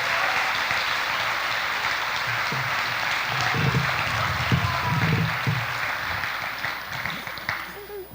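Audience applause ripples through a hall at a high school spring band concert, honoring the percussion section at the back, as steady, moderately loud clapping that swells and fades over several seconds.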